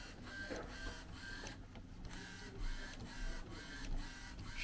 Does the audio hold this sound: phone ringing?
no